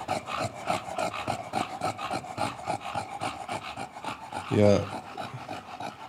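Ailing, apathetic dog panting while being massaged, a fast rhythmic rasping pant repeating steadily and close, with a brief low whine or vocal burst near the end and a short spoken word.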